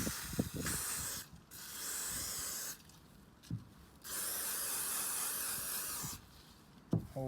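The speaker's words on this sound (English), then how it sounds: "Cleaned around these with the brake cleaner." Brake cleaner sprays from an aerosol can while cleaning parts around a VW T5 DSG gearbox, in three long hissing bursts with brief gaps and small knocks between, close up.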